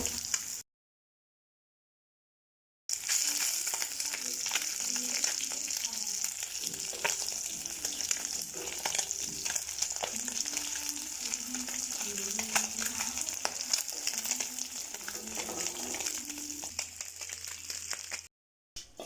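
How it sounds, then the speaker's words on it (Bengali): Sea chapila fish fry in oil in a pan, producing a continuous, bright sizzle with crackling spatters close up. The sizzle breaks off briefly near the start, then runs on steadily with faint background sounds underneath. "মাছ ভাজা কমপ্লিট"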